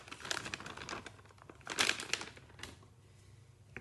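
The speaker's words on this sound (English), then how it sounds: "when it comes in a bag, it's often quite squished, so I just gently squeeze it like that to loosen it up" Bagged paneer cubes squeezed through a plastic bag to loosen them, giving close crinkling and crumpling plastic in a few soft bursts, a louder crunch near the middle, then quieter handling as the cheese goes into a pan.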